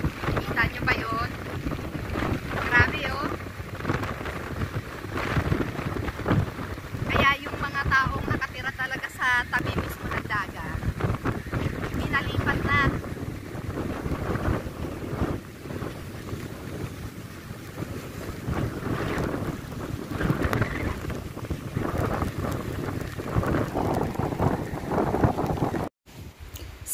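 Big waves and strong wind on the coast during Typhoon Paeng, with surf crashing and gusts buffeting the microphone in a continuous roar, while a person talks over it.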